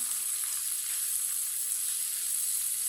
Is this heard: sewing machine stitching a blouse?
no